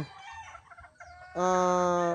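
A White General gamefowl rooster clucks softly in a few low, broken notes, then lets out a loud, sustained crow that runs to the end.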